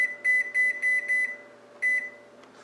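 A microwave oven beeps as a Lean Cuisine frozen meal is set to cook at 50% power: a quick run of five close, even beeps, a short pause, then one more, all over a steady low hum.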